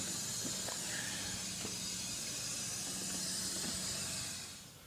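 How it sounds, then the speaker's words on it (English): A steam cleaner on carpet gives a steady hiss of steam throughout, with faint clicking and rattling underneath, then tapers off at the very end. "It slides back and forth as you steam your carpet."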